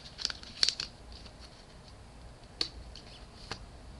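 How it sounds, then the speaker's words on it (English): A deck of oracle cards is shuffled up close and quietly, giving soft, sporadic snaps and riffling flicks scattered across a few seconds. "As I shuffle the deck"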